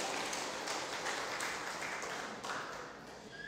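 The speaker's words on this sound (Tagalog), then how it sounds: "Palakpak muli sa Panginoon." Applause for the Lord rises from a church congregation during a service, a steady wash of many hands clapping that holds strongly and then tapers off toward the end.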